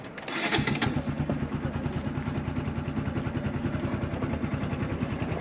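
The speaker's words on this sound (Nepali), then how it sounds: "यो हालेपछि मात्र बाइक स्टार्ट हुन्छ, न त बाइकै अन हुँदैन" A motorcycle engine fires up once its main fuse is refitted, catching quickly and settling into a loud, steady, rapid idle that runs on without talk.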